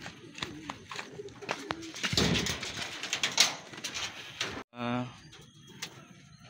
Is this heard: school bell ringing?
no